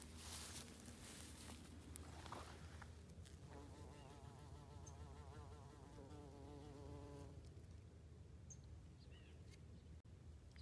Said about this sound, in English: we already have a big bumblebee out here interacting